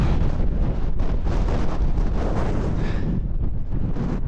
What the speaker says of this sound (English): the wind is up